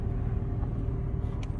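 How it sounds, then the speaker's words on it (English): A truck crawling in the lowest gear of its low-range gearbox on a California back road, heard as a steady, close engine rumble and drone with faint clicks near the end. "We have the truck in the low range gearbox, in the lowest gear."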